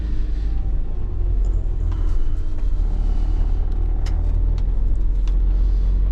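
A delivery van with a cold engine drives slowly, giving a steady low rumble of engine and road noise close by, unbroken throughout with no talk.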